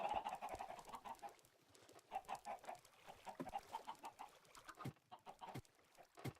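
Chickens in a Minecraft farm cluck repeatedly in short irregular bursts, with a few sharper clicks, faint and without talk.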